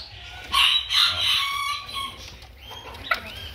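A chicken in a coop where a hen is hatching chicks gives short, bright clucking calls up close, followed by quieter sounds and a brief sharp click, with no voices.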